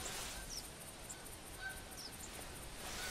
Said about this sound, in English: Yes, there is also geese.